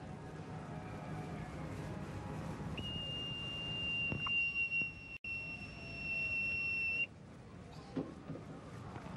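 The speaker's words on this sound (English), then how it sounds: "can you whistle us out?" A single sustained, piercing whistled tone holds steady for a few seconds over a faint background hum, then cuts off.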